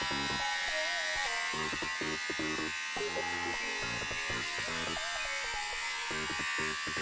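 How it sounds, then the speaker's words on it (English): Steady electric hair clipper buzz trimming a beard, a constant close motor whine with shifting pitch as it moves across the hair, continuing without pause. "I'm done with the clipper for now."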